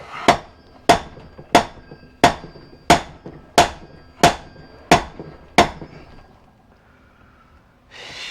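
Eight sharp metal hammer blows at a steady rhythm on a seized 1974 Honda CB360 motorcycle engine, loud and close, each ringing briefly before the next, then a pause with faint rustling.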